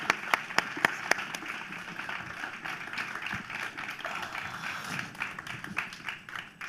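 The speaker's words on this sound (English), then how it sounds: "Let's give them another round of applause as we go into our..." An audience gives another round of applause at a Pride storytelling event, a few sharp individual claps at the start before dense crowd clapping fills the rest at a steady level.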